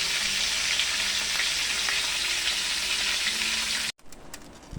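A large milkfish (bangus) stuffed with onion and tomato fries in a big pan of oil, a close, steady hiss and crackle that runs on evenly before cutting off abruptly near the end.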